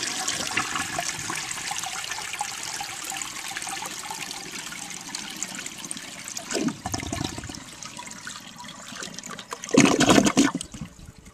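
An Eljer Waco toilet flushes outdoors with a long steady rush of water, then a gurgle and a second loud swirling surge near the end, heard up close with no talking.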